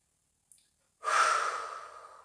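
One long, deep breath rushes out close to the microphone during a sophrology relaxation exercise with the tongue pressed to the palate. A tiny click comes first, then about a second of silence before the breath.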